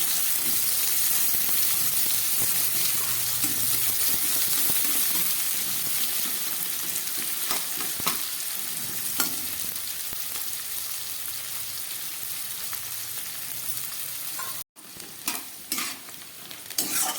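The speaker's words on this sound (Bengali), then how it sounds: "পেঁয়াজটাকেও আলুর সঙ্গে আমি খুব ভালো করে ভেজে নেব" Onion and potato fry in a pan, steadily and closely sizzling, broken by occasional scrapes and stirring; the hiss drops briefly near the end and then resumes, with no talking.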